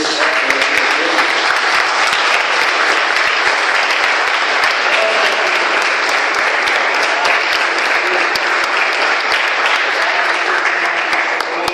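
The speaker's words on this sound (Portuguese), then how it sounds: "Queria que você aplaudisse a Jesus" A church congregation at an evening missions service applauds, a loud, dense and unbroken roar of clapping from many people that holds steady for over ten seconds.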